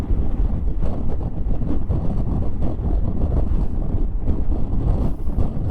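Riding a Yamaha XMAX 300 scooter brings a constant loud roar of wind buffeting the microphone, with low rumbling gusts and no break across the whole stretch.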